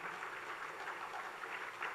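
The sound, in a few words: audience clapping hands at a school investiture ceremony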